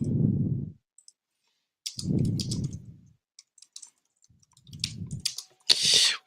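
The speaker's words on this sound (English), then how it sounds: "I'm just typing some stuff real quick." Computer keyboard typing arrives in quick bursts of light clicks spread across the stretch, alternating with low muffled thumps, with the keys standing clear and close.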